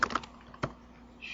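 Keystrokes on a computer keyboard while entering a database configuration command: a few quick clicks at the start, a single sharper tap midway, then a faint click near the end, close and quiet.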